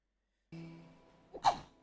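A single sneeze sounds close and sharp after a brief breathy intake, in a quiet room.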